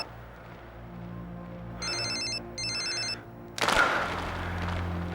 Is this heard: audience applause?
no